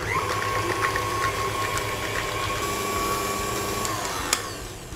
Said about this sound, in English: So I'm ready to start and whisking my cheesecake mixture.